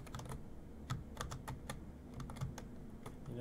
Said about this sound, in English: Now you're going to hear the clickety-clackety of the keyboard all over again